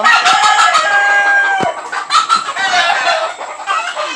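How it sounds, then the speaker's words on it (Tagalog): A flock of backyard-farm chickens, including hens, clucking and squawking loudly and continuously, with overlapping calls from several birds close by. "Ang ingay ng mga manok dito"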